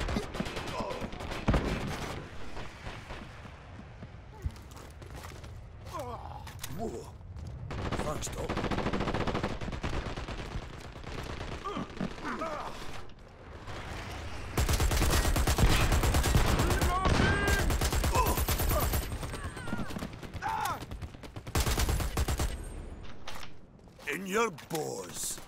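Rapid gunfire in the video game Dirty Bomb, loud bursts of shots with pistol fire among them, nearly continuous across the stretch, with occasional mechanical clicks and a player talking at times.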